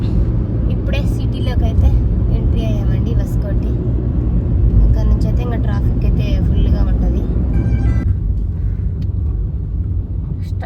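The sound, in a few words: car driving in Bangalore city traffic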